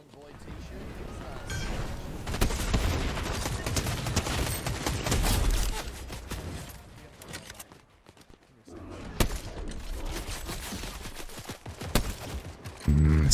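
Rapid bursts of gunfire from the video game Fortnite during a team rumble match, dense volleys with a brief lull midway before the shooting resumes, loud and close.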